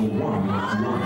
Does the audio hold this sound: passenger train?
no